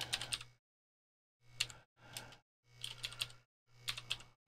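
Typing on a computer keyboard while entering a keyword in Photo Mechanic photo software: four short bursts of quick, close key clicks separated by brief pauses, with no talk.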